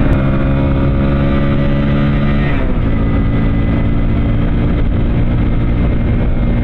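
Engine of a new Hero Splendor Plus Xtec BS6 2022 motorcycle while riding, a steady close drone that drops in pitch briefly at a gear change and keeps humming evenly with no talk.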